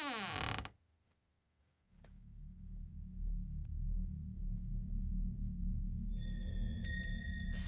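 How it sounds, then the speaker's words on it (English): A short, strained creak sounds at the start, then fades into a low, droning hum, with thin metallic tones ringing near the end. "I could hear the unmistakable sound of a door creaking open."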